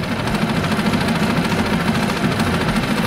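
An M22 boat motor idles close and loud, a dense steady rumble with a fast pulsing beat and slight unevenness throughout, with no voices.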